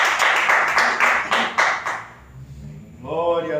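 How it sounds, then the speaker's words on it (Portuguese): Several sharp, rhythmic claps in a steady beat of praise during a church service, then they stop and a voice begins speaking. "as palmas louvam ao Senhor Jesus"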